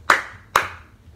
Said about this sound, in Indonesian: Cukup tepuk tangan bisa langsung nyala.